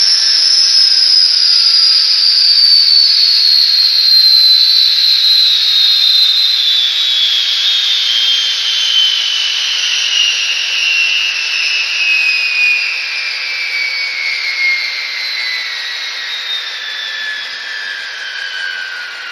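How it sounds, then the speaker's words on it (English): A ScaleTrains N scale GTEL 8500 "Big Blow" turbine locomotive's sound system winds down through its shutdown sequence: a loud, steady jet-like whine slowly falls in pitch and fades a little over about twenty seconds, with no talking. "Turn off the turbine."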